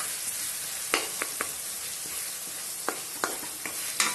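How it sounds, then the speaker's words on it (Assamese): Onion frying in a pan for an Assamese fish curry with mustard, ridge gourd and tomato: a steady broadband sizzle with several sharp scrapes and taps of a spatula against the pan, close by, with no voices. "এয়া অকণমান দেৰি ভাজিম অকণমান ৰংটো সলোৱা লাগে"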